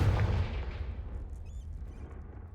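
A Confringo fire spell blast in the Hogwarts Legacy video game: a single heavy, close boom that hits hard at the start and then decays into a long rumbling tail over about two seconds.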